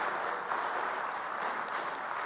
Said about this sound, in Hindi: अरे ताली बजाओ तो जरा ढंग से बजाओ,